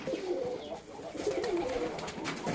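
Pigeons coo softly and repeatedly nearby, low throaty calls overlapping in a gentle, rolling rhythm.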